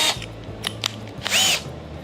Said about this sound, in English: So let's drill. Where is my drilling machine?